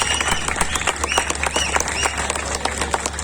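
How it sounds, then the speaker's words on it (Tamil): Audience applause at a Tamil pattimandram debate event in Kangeyam, a crowd clapping steadily for a speaker, dense and continuous over a low background hum. "கோபிச்செட்டிப்பாளையம் கொங்கு மஞ்சுநாதன் அவர்களுக்கு ஒரு பெரிய கரகோஷத்தை கொடுத்து பாராட்டி"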